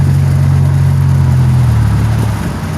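A 2007 Pontiac Grand Prix GT with a V6 engine and an XPZ cam idles loud and close, a steady low droning rumble that holds evenly and sags slightly in pitch toward the end.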